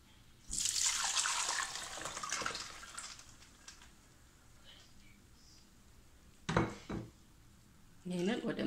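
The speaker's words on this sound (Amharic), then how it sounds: "አሁን የተዘፈዘፈበትን ውሃ አጥልለን እናውጠዋለን።" Soaking water is poured off soaked almonds in a home kitchen: a splashing pour for a couple of seconds, then quieter trickles and a few short clatters and sloshes, fairly close.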